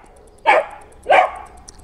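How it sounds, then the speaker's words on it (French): Dogs bark at a cat indoors, two sharp, close barks about half a second apart, loud against a quiet background. "Ah, elles aboient après le chat."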